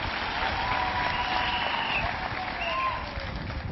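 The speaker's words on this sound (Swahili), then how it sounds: "Tuwapigie wote makofi." An audience in Nairobi applauds at a scholarship and bursary event, a sustained mass of clapping that thins slightly toward the end, with a few faint voices mixed in.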